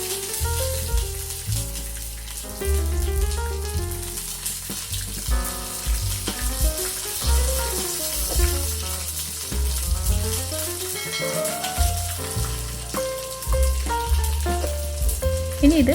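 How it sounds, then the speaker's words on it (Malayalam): Mustard seeds and curry leaves sizzling in hot oil for a Kerala-style prawn and tapioca curry, a steady close frying hiss with crackles and pops, while background music plays. "ഇനി കടുകിടാം. കറിവേപ്പിലയും കൂടി ചേർക്കാം."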